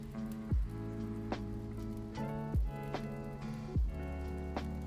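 Rain ambience played from an app: steady patter of raindrops on a surface with a continuous wash, and a few louder drop-like plinks at intervals, with no talk.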